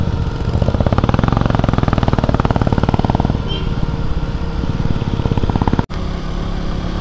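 A KTM 200 motorcycle climbs the hill road through the Nilgiris foothills toward Ooty, its engine a loud, steady buzzing drone with rapid pulsing throughout and a brief dropout near the end.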